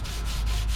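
Crisscross hand sanding of a car's clear coat, a loud, close, continuous abrasive rubbing with even strokes and no voices.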